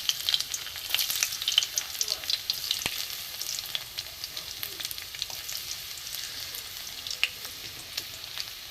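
Chopped garlic fries in hot mustard oil in a wok for a dhaba-style egg tadka, a dense crackling sizzle that stays steady and close with light popping spatters and no talk.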